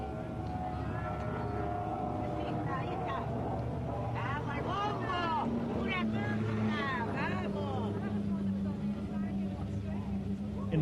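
A Class 2 racing powerboat in an offshore race passes with a sustained engine drone and rising and falling pitch as a commentator talks over it.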